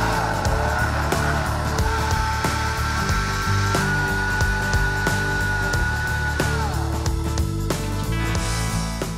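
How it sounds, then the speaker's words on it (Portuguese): Pancake batter of flour, milk and salt being beaten by machine for spinach pancakes: a loud, steady motor whir runs without a break, with a whining tone that holds and then drops near the end. "Agora a gente vai simplesmente bater essa massa para depois a gente fazer as panquecas"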